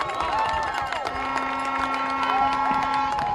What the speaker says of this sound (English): Crowd celebrating the stop.